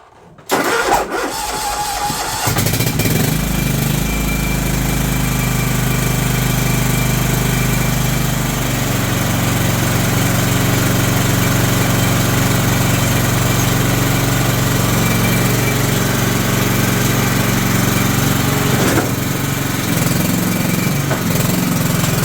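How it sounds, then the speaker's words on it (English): A John Deere LT160 lawn tractor starts up and runs steadily while mowing grass, its mid-pitched engine loud and close with a constant drone that shifts slightly lower partway through. "Let's Go mow some grass, shall we?"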